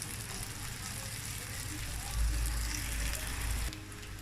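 Zucchini sizzles and crackles steadily frying in a covered pan, with a low rumbling undertone that swells in the middle and eases off again.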